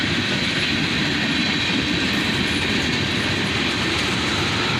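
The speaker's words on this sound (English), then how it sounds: "This was another monster manifest train." A CSX manifest freight train, led by diesel locomotives including a GP40-2, rumbles past close by, with a loud continuous roar and rhythmic clatter of wheels on rails throughout.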